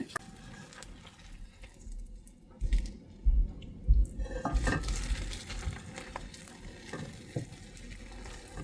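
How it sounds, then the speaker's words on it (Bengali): An egg fries in a pan while a spatula presses and turns it. A low sizzle runs under a cluster of louder scrapes and knocks near the middle, and no one speaks. "ডিমটা ঘুরাই ঘুরাই ভাজা করবেন"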